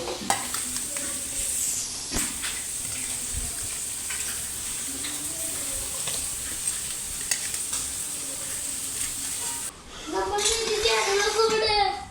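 Fish frying in oil in a home kitchen, a steady crackling sizzle running throughout, with stirring and clinks, and a child and an adult talking over it near the end.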